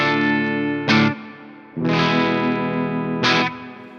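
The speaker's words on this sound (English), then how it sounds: "Here is the bridge sound of the Gibson burst bucker" A Gibson Burstbucker bridge pickup on a Garrett SG Jr electric guitar, guitar volume at 10, rings out clipped, distorted chords in two long sustained strums, each started by a sharp pick attack, loud and close.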